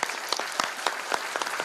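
Sustained applause from an audience after a speech by Perinçek at a Vatan Party gathering, dense rapid clapping that stays steady and moderately loud throughout, with no speech over it.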